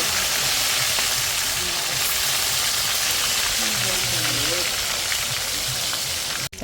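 Food fries in a pan with a constant, even hiss of oil that fills the whole stretch. A voice murmurs faintly in the background.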